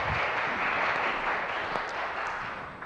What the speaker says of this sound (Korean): 우리 하나님께 영광의 박수를 한 번 더 올려드리면 좋겠습니다.